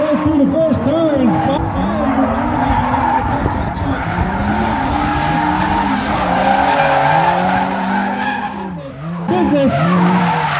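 A drift car skids sideways through the first turn at Suika Circuit during a Whiskey Garage series round, its tires squealing and engine revving hard in a loud, continuous howl that barely lets up.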